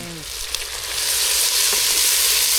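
Thumbai leaves and flowers sauté in a pan with a loud, steady sizzle that grows fuller after a light clink near the start.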